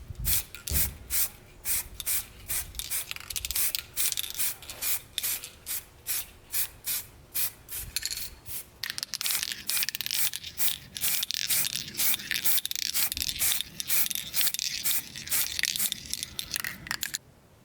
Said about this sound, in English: I actually had to spray the frame completely with the bottle tipped upside down